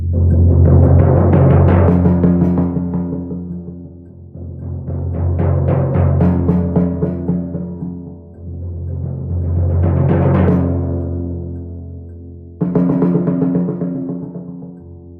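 Timpani rolls played without a towel dampening the heads: four long, booming rolls, each swelling and fading with a resonant ringing tone, loud and close, the last starting with a sharp accent, no talk.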